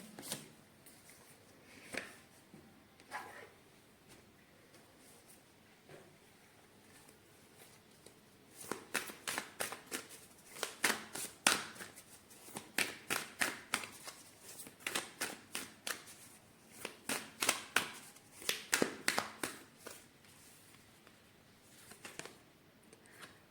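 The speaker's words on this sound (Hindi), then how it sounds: "ओके, आपके लिए ओरेकल कार्ड निकालते हैं।" Oracle cards are shuffled and drawn, first as scattered soft slides and taps, then as rapid bursts of crisp riffling that come in waves and end with a few flicks. The sound is close and there is no talking.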